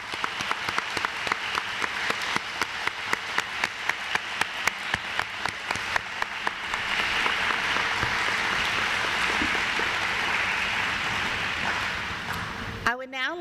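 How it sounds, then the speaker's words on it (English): A school audience claps for fifth grade graduates at a step-up ceremony. Distinct rhythmic claps come first, then they swell into steady, dense applause that runs on before cutting off. "Let's all give them a round of applause."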